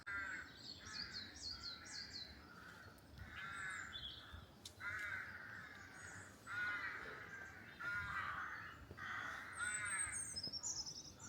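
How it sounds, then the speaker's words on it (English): Rooks and carrion crows cawing from trees on the Isle of Wight at St Lawrence, a series of harsh, repeated caws in short bursts, some overlapping, moderately distant over a soft outdoor background. "I love being woken up by the rooks and the carrion crows."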